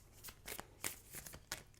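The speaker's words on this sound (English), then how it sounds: "Okay, I'm going to shuffle the cards, Taurus, and we'll see what's going to come out." Tarot cards being shuffled by hand: a quick series of soft, papery riffles and slaps, close and faint, with no voices.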